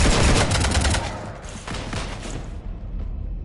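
Dense rapid gunfire in the sci-fi shooter Mass Effect 3, loud sustained bursts of automatic weapon fire with overlapping shots that slowly thin out while a low rumble continues underneath.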